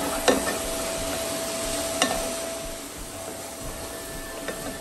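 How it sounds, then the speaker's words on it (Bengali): Prawns fry gently in a little white oil in a medium saucepan, giving a soft steady sizzle with a few sharp clicks of stirring, close and continuous without any voice. "হালকা করে চিংড়ি মাছটা ভেজে নিচ্ছি"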